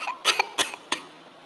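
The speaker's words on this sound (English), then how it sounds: "I'm sorry, I'm coughing." A person lets out a short burst of three or four dry, throaty coughs, close and fairly loud, each separated by a brief pause, with no talking.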